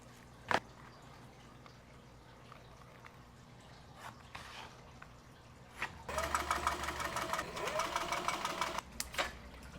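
Leather money envelope being machine-stitched with pink thread, a steady close-up mechanical whir and rapid needle patter from about six seconds onward, after quieter handling and a sharp tap near the start.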